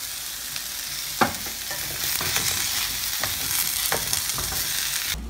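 Food sizzles steadily in a hot pan as tomato sauce is added, a constant hiss with occasional sharp crackles and stirring scrapes, close and fairly loud.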